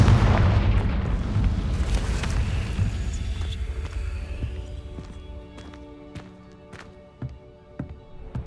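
Confringo explosion spell in Hogwarts Legacy: a loud booming blast opens, then its rumble fades while scattered clattering impacts and knocks follow in the quieter tail.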